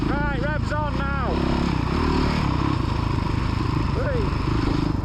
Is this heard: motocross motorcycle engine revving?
yes